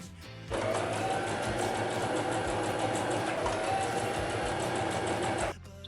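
A sewing machine runs steadily for about five seconds, stitching a French seam on a summer dress, a close, even whir with fast rhythmic needle ticks that starts and stops abruptly.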